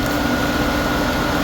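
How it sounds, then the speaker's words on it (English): The twin radiator cooling fans of a 1998 OBS Chevy Silverado run with the engine on, giving a loud, steady, close broadband whoosh and hum that holds unchanged throughout. "Fan's just fired up."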